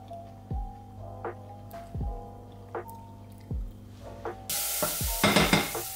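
Dinner cooking in a pan, with a series of separate stirring scrapes and clinks over a low background hum, then a loud burst of sizzling frying takes over for the last second or so.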